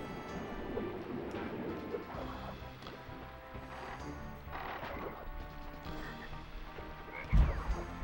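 A frog croaks repeatedly in the Crash Bandicoot Warped video game, after the player is turned into a frog by a wizard, heard alone amid game music and effects.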